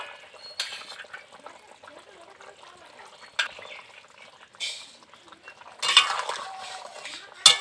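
Koi fish curry being stirred with a metal spoon in a pan after ginger-cumin paste goes in, giving short bursts of scraping and clinking separated by quiet pauses, close and moderately loud.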